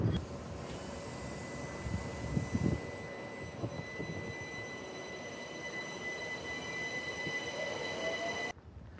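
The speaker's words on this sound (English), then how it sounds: "Is that a London tram?" London tram rolling past on rails at Mitcham Common, a sustained rumble with a steady metallic whine and wheel squeal, loudest early then holding before cutting off abruptly.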